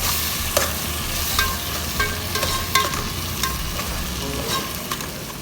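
Sardine curry masala frying on a low flame, stirred continuously with repeated scraping strokes over a steady close sizzle, no voices.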